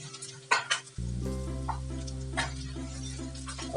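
Eggplant stir-fried with onions in a pan, a steady close sizzle with scraping stirs at the start, then a constant loud frying hiss with a low hum underneath.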